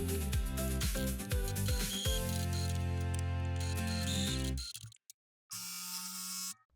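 Sewing machine stitching a gathered dress sleeve to a child's princess dress, a steady loud mechanical whir with rhythmic needle thumps that cuts off near the end, then a brief motor hum returns alone.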